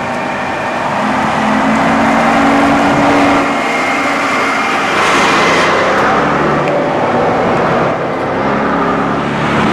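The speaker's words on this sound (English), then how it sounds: "And there's a heritage bus coming in." A heritage bus rumbles in and draws closer over steady engine noise, with traffic and London station ambience around it.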